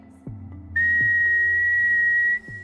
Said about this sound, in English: I wonder if whistling works.